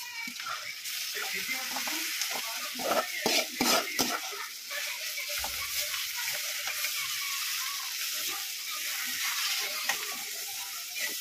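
Pav bhaji masala fries in butter and oil in a kadai, with a quiet, steady sizzle and intermittent scraping of a spoon stirring against the pan.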